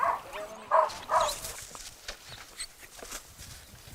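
Hungry dogs abandoned on an island bark and whimper in a few short, sharp yelps near the start, then quieter rustling and scattered noise.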